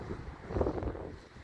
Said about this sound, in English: Excuse the wind.